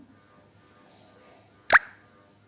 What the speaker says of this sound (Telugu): కొత్తిమీర అల్లం వెల్లుల్లి పేస్ట్ వేస్తున్నాను